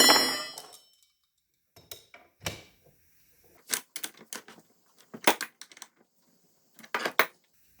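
An old, cheap 34 mm socket loosening a nut on a Walker 1.5-ton floor jack, model 93632, during a rebuild. It gives sparse, close metallic clanks and clinks in short separated bursts with quiet gaps between them.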